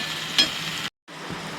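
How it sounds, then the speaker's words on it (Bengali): Taro pieces frying in a hot pan give a soft, steady sizzle with a light stir or clink, broken by a short gap of silence before the sizzling resumes. "কচুটা আমি ভালো করে আগে একটু ভাজা ভাজা করে নেব"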